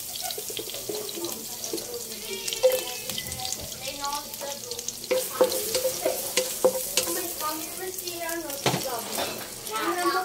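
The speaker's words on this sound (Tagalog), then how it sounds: "Gisa na ako ng bawang." Garlic sautés in a pan for a mushroom and shrimp dish, a busy sizzle broken by repeated scraping stir strokes and clinks, with faint background sounds and some voice-like tones under it.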